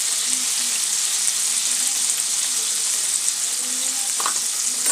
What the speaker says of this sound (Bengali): মাংসটাকে বেশি করে একটু মরমরে ভাজা হয়ে গেলে তারপরে আমি পেঁয়াজটা দেবো।